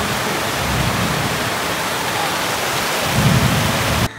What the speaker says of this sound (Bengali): এখন শুরু হচ্ছে বৃষ্টি, আর কি লেভেলের বৃষ্টি হচ্ছে